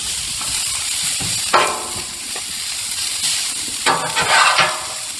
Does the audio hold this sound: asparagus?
yes